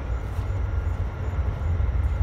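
A steady, heavy low rumble of a train rolling past nearby, continuous and unbroken throughout.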